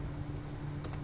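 Fingers typing a router configuration command on a computer keyboard, a few quiet clicking keystrokes bunched near the end over a steady low hum.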